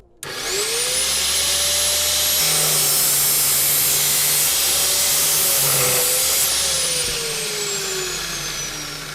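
A powered cut-off tool spins up and slices through a 1985 Titleist Tour Model golf iron, a loud steady whine with a rising pitch at start-up, holding for several seconds then winding down, with no talk.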